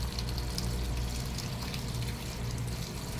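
Water gushes steadily into the drum of a Whirlpool automatic washing machine, a loud, continuous pouring rush with a low mechanical rumble underneath.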